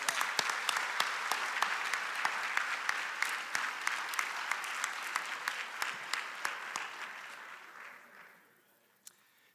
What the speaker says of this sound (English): Let's give these amazing folks a round of applause.